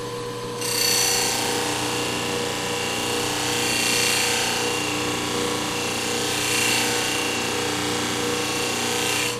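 Knife blade pressed against a spinning grinding wheel, a steady motor hum under bright hissing grinding that swells in three passes, loud and close.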